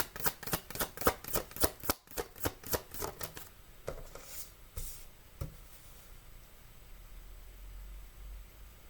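Cards being shuffled for a pick-a-card reading: a quick run of crisp riffling bursts for about three seconds, then a few isolated soft flicks over a quiet background.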